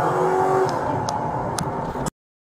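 A police car drives on and picks up speed, its engine revving steadily and close by under a rushing road noise, with a few faint clicks on top, until it cuts off abruptly.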